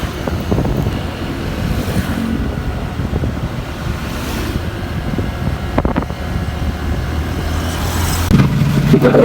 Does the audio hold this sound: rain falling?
no